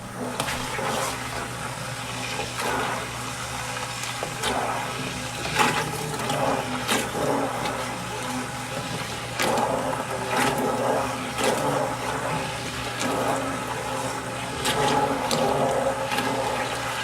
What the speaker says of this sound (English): about now is when I want to hit this with the immersion blender